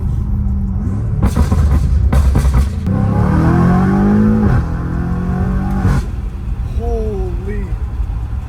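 A BMW M5 Competition fitted with an expensive aftermarket exhaust revs with deep, rumbling swells that rise and fall in several bursts, loud and close, while people talk excitedly over it.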